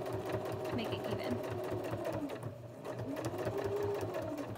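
A sewing machine stitching a bib seam, running slowly with a steady rhythmic mechanical chatter, close and continuous with one brief pause, while someone talks over it.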